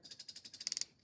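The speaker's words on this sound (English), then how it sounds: "Hear the action there? It's a 60 tooth ratchet." A 60-tooth low-profile ratchet clicking through about a dozen quick, even, crisp clicks in one short burst, close and clear, the last few sharper and louder.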